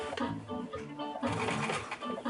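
A home sewing machine stitching in the ditch along the cuff of men's pants, a rapid rattling run of stitches that pauses briefly at mid-point and then resumes.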